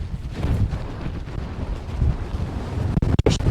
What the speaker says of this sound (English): if you can hear me, it's super windy